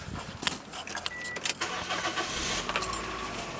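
A car engine cranks and starts near a home, a rough mechanical churn with clicks and a jangle of keys that settles into a steady running rumble, close and fairly loud.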